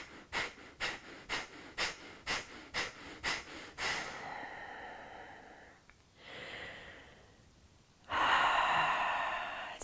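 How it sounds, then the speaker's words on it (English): Rhythmic Breath of Fire breathing exercise: about nine sharp, forceful nasal exhales in a quick even pulse, followed by a longer breath out, a pause and a loud deep inhale, all close and without talk. "Let's finish together with 10 more sharp exhales to wrap up our Breath of Fire"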